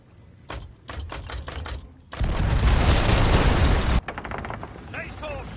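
Pirate ship cannons firing in a video game: a rattling run of quick clacks builds into a long, loud roaring blast of broadband noise lasting nearly two seconds, then cuts off into scattered crackles and faint calls.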